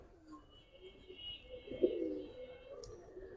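Giribaz high flyer pigeons coo softly in a low, steady murmur, with faint chirps above; the calls are close but quiet and carry on continuously with no talking.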